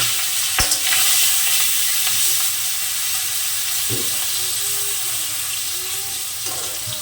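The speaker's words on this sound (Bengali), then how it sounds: "সর্বপ্রথমে আমি মাছ ভেজে নেবো" Stinging catfish coated with turmeric and salt fries in hot oil in a wok, making a loud, steady, close sizzle for several seconds with a few sharp clinks.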